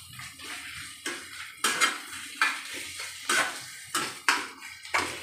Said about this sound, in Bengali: এইভাবে একটু নাড়াচাড়া করে নেবো কড়াইয়ে